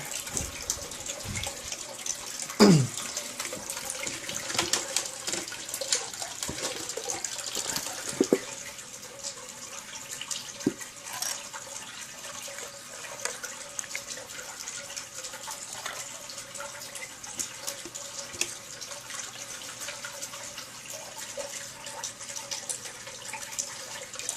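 Water runs steadily from a tap into a pan being washed out while reviewing paydirt, a continuous splashing flow with a few sharper clanks near the start.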